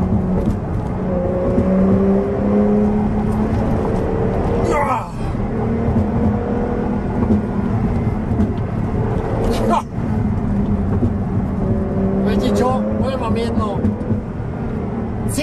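A 2021 Porsche 911 Turbo S engine hums and whirs steadily from inside the cabin while driving, with brief swells of revving, under continuous talk.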